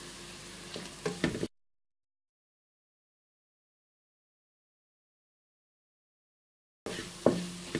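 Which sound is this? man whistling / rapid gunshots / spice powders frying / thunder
spice powders frying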